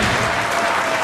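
Crowd at a racquetball match at the US Open breaks into steady, loud applause, dense clapping filling the whole moment without pause.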